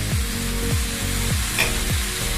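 Fenugreek greens tossed into a pan with fried dried shrimp, sizzling steadily with a broad frying hiss and a few soft periodic clatters, close and fairly loud with no talking.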